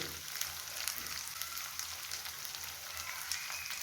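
Ginger-garlic paste frying in a pan for a fish curry, a steady soft sizzle with faint crackles, low and continuous, with no voices.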